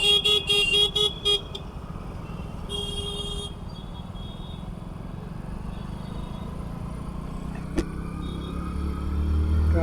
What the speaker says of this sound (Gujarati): બાકી લાઈન જુઓ ફૂલ ટ્રાફિક લાગેલું છે